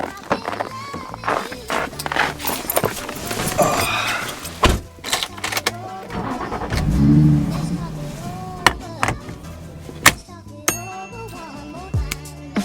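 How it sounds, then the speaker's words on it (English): Someone gets into a Nissan 350Z: door thumps, keys jangle and clicks, then the engine starts with a short rev before settling, with more door and handling knocks near the end, all close up. "let's go ahead and hop in the Z and I'll take you for a drive"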